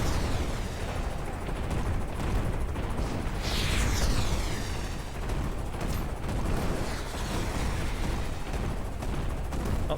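Rocket pods fire in the Carrier Command 2 video game, a dense, roaring barrage of launches and explosions that runs without a break for about ten seconds, with a whooshing streak partway through.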